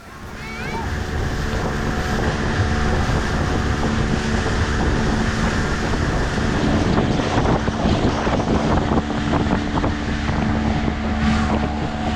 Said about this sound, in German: Mit einem Boot wollten wir zu Lisas Haus fahren